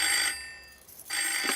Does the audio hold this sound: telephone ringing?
yes